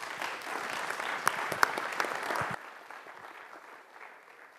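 Audience applause at a talk event, a dense steady clapping from a crowd lasting about two and a half seconds before dropping abruptly to quiet room tone.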